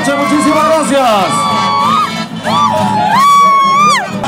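Crowd at a San Pedro festival celebration in Tabacundo cheering, whooping and shouting loudly, with voices rising and falling over about four seconds and a brief dip in the middle.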